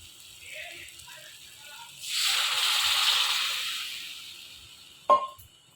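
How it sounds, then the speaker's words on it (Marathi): Cold water poured into a pan of fried masala for a mutton vadi curry, a broad steady gush lasting a few seconds, then a sharp clank of a vessel. "आता आपण त्यात घालणार आहोत पाणी."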